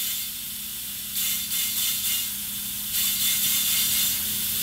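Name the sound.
air from compressor filling oil pump priming tool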